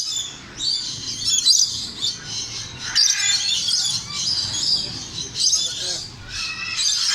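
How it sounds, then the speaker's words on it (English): Parrots and macaws calling outdoors, a busy mix of shrill chirps, squawks and whistles overlapping continuously at close to moderate distance. "Here's some parrots around here."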